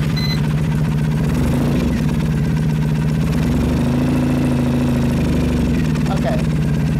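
A Triumph 900 Thruxton motorcycle engine with a weak battery runs at a steady, loud idle, a constant low drone close by for the whole stretch without a distinct start burst.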